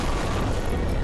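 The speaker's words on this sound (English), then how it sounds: "I juggle my Alolan Golem onto the field, and a galvanized explosion puts me in the lead" Alolan Golem's Explosion move in Pokémon Scarlet/Violet doubles: a loud, sustained roaring blast of broadband noise filling the whole moment without letup.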